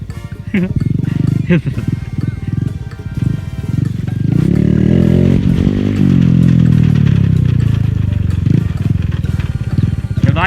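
A Honda Wave 110i motorcycle ridden through a muddy field and popping a wheelie, its engine revving hard into a loud, sustained rising roar with clattering, while voices shout nearby.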